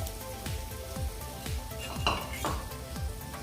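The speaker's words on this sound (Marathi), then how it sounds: "गुळ घालून घेणार आहोत हा चिरून घेतलेला गुळ आहे" Chopped jaggery melting in a pan for sesame laddu, with a steady soft sizzle and repeated scraping strokes of a spoon stirring against the pan, close and fairly quiet.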